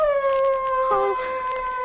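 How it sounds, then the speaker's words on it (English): Several dogs howl in long, sustained wailing tones in a radio horror drama, one voice rising and bending over another steady howl, loud and close throughout. "Oh. Those dogs."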